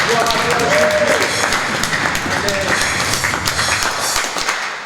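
A church congregation applauds during a worship service, a dense, sustained wash of clapping that holds steady throughout, with a few voices mixed into the crowd noise.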